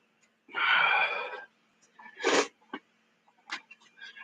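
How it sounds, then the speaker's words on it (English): Several short nasal sniffs and breathy snorts, close up, spread unevenly over a few seconds with quiet gaps between them. "sorry about all the sniffles and stuff like that."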